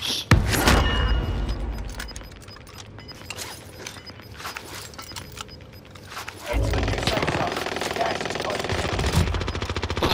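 Loud machine-gun fire and shots in a first-person shooter game, dense bursts near and far with a heavier roar of fire in the second half, over background game noise.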